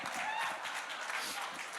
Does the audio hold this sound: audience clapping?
yes